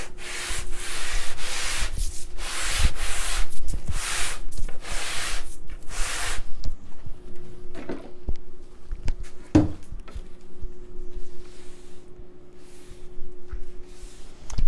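Wood putty layer on a radiused guitar-back dome being sanded: rhythmic back-and-forth rasping strokes, loud and close for several seconds, then quieter scattered rubbing.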